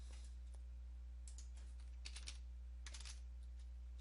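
Typing on a computer keyboard while entering commands to fix a Windows 10/11 PC, heard as short bursts of quick key clicks separated by pauses over a low steady hum, close but faint, with no voices.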